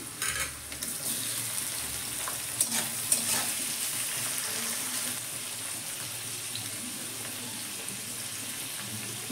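Chopped onion and tomato fry in a pan with a steady close sizzle, broken by a few soft stirring clicks early on, and no talking.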